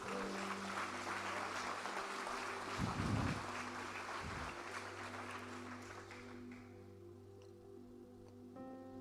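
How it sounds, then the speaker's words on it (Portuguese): Members of a church congregation applaud God, a soft, diffuse patter of clapping over a low steady hum that gradually thins and fades toward the end. "Aplaude o teu Deus direito."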